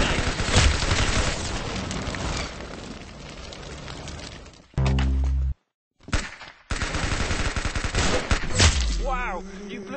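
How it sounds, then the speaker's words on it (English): Rapid gunfire in Roblox Arsenal, loud close bursts of shots with booming impacts, broken by a brief low thud and a short silence, then more firing. "Wow, you blew his brains out. Nice. Good shot."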